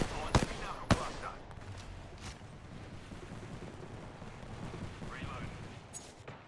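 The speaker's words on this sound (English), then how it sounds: "Launching the Knuckle Cluster." In the shooter Apex Legends, a Knuckle Cluster is launched with two sharp, loud cracks near the start. Softer rumbling and scattered popping bursts follow, with gunfire-like noise in the background.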